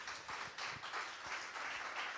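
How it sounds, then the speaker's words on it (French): Warm, dense applause from an audience after a talk, many hands clapping together fairly evenly, heard from a slight distance and at modest loudness. "on peut les applaudir très fort"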